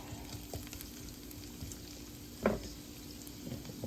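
Breakfast sizzles in a pan on a Trangia 25 camping stove: a steady, soft frying hiss with one brief clatter partway through, close and alone.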